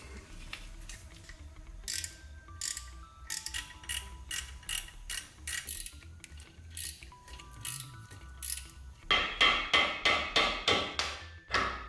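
A ratchet clicks in quick repeated bursts as a carrier bearing is removed from a Ford Focus ST. The near, metallic ticks come in uneven runs, and a fast, louder series closes the clip.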